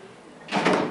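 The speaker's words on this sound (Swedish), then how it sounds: "Doors opening." A machine-room-less traction elevator at T-centralen subway station slides its doors open: a quiet hum, then a loud rushing slide that swells and carries on to the end, close by with no talk.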